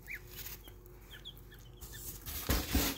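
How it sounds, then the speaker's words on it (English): A newly hatched gosling, which survived an incubator malfunction, gives a few soft, high peeps scattered over a quiet background, followed by some louder rustling and bumping near the end. "So this little gosling is kind of hatched out."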